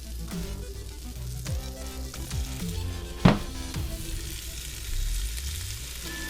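Fish fries in butter in a hot pan, a moderate steady sizzle with scattered crackles and a sharp knock of utensil against pan midway.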